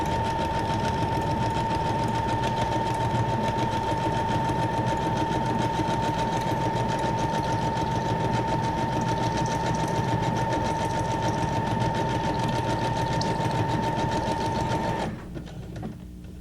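A sewing machine runs steadily for about fifteen seconds, stitching a pocket for a junk journal, with a loud continuous motorized hum that stops abruptly near the end.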